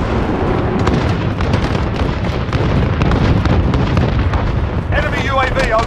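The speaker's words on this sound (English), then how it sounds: "Missile away." A missile launch and blast in the shooter Modern Warfare with the Holger-26 machine gun, a loud sustained rumble of explosions and heavy booming battle noise filling the whole stretch.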